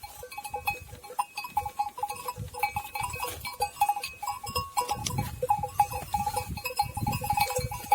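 Sheep bleat repeatedly amid a busy outdoor flock, with overlapping calls and rustling from animals nearby, some bell-like clinks in the mix.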